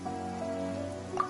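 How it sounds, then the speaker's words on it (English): Steady rain falls in the Genshin Impact video game, a soft continuous patter with a brief louder drip near the end, set under a faint tonal music bed. "Yet today, the downpour arrived on schedule."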